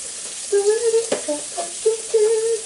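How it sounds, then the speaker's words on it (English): Red vegetables sauté in a hot pan for a vegan omelette, giving a soft sizzle broken by intermittent stirring scrapes and a sharp clack near the middle, close and moderately quiet. "I don't know if I need to saute the spinach, but here's me sauteing the reds"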